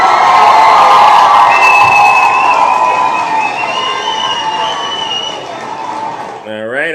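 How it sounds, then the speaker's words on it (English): A studio audience claps and cheers loudly, with whoops and shouting voices riding over the applause before it tapers off toward the end. "let's give him another round of applause"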